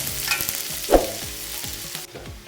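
Two large, finely chopped onions sizzle and crackle steadily in a hot pan as they brown, with a spoon scraping and stirring now and then.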